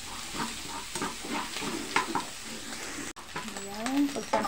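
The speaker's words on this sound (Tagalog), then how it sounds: "Lagyan na po natin ang bawang dito sa gilid." Garlic stir-fries in a wok with shrimp, giving a steady close sizzle broken by repeated scraping stirs, then a brief pause followed by louder frying.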